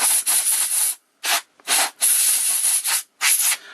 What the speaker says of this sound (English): Just gonna spray it out just to be on the safe side.